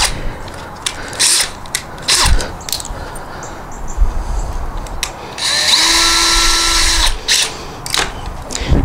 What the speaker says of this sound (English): We're going to put the screws in this direction here